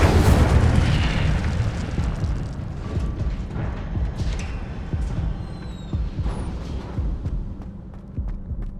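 Incendio fire spell in Hogwarts Legacy: a dense roaring burst of flame and rumble that swells loudly at the start, then churns on with crackling pops and low throbbing booms.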